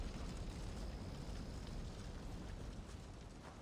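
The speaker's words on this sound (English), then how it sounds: "You wanted fire. There you have it." Roaring blaze from a house set on fire in Assassin's Creed Valhalla, a dense, steady crackling rush filling the scene without pause, with no talk over it.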